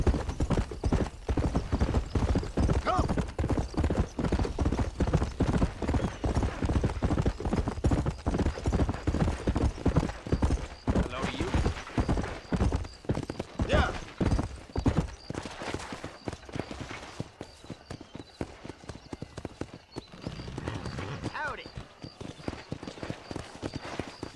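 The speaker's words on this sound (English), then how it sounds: "Vou entrar com o cavalo na parada igual Tiziana" Horse hooves clip-clopping in Red Dead Redemption, a steady rapid gallop rhythm that is loud and close, slowing and thinning toward the end with a brief whinny-like sound.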